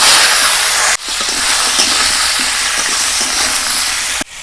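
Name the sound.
papaya, potato and green banana frying in oil in a wok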